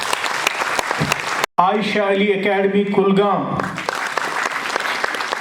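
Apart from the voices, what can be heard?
applause at an awards ceremony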